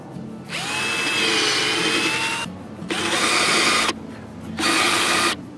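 A power drill drives screws to fasten the top and bottom onto a birdhouse made from a log: three loud whirring bursts, each a second or more, with a rising motor whine and short pauses between.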